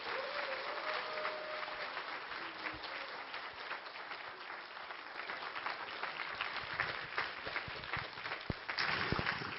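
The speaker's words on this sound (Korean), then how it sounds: "박수해 주십시오" Sustained applause from a church congregation at an autumn revival service, a steady dense wash of clapping filling the room for the whole stretch, with a brief louder surge near the end.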